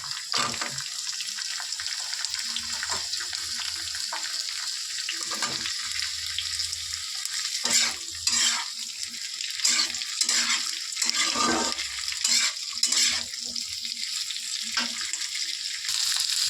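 Chopped onion and capsicum frying in a pan with garlic give a continuous sizzle, broken by irregular scraping and stirring knocks, heard close and loud throughout.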